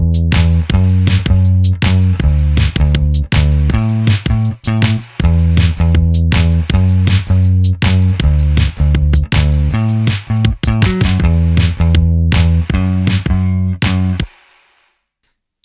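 An 8-bar electronic music loop plays back in production software, a steady beat with bass and sustained tones repeating loud and continuous before cutting off near the end.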